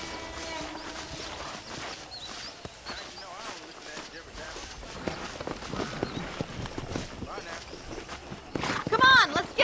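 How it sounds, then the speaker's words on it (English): Horses' hooves clip-clopping at a run in the open-world western game Red Dead Redemption, a busy irregular patter of hoofbeats at moderate level with some ambient noise, ending in a short burst. "let's see if we can't wrangle some horses."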